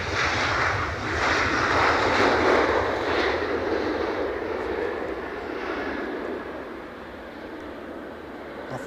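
A Transavia airliner at Edinburgh Airport in storm winds, a loud jet engine roar with gusty rumbling bursts early on that slowly fades over several seconds, no speech.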